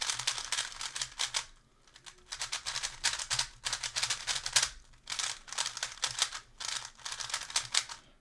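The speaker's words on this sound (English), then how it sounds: "this cube does retain that kind of rattly, a little bit loud sound that you get with most Fangshi cubes" A Fangshi GuangYing speedcube is turned close by, its plastic pieces giving off loud, rattly clacks in quick bursts of clicking separated by brief pauses.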